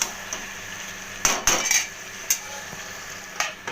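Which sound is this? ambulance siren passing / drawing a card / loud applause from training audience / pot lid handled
pot lid handled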